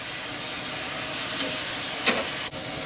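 Chicken wings and legs sizzle steadily on a hot grill, a loud continuous fizzing hiss with a brief sharper crackle near the end.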